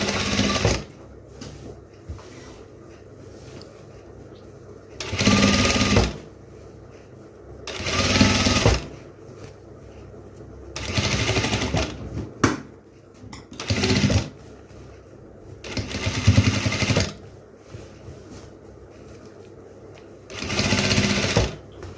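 A sewing machine stitching a crop top runs in repeated bursts of rapid mechanical whirring lasting one to two seconds each, separated by quiet pauses and faint handling sounds.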